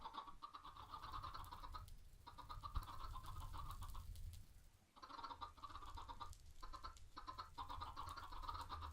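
Steady chorus of Minecraft chickens clucking over a constant background hum, continuous with a couple of brief dips.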